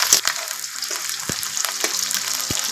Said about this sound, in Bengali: পেঁয়াজটা একটু ভেজে নেব লাল করে